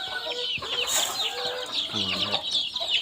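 Domestic backyard chickens, home-bred hens with a clutch of chicks, cluck close by in a farmyard, with a steady stream of short calls and a brief louder squawk partway through.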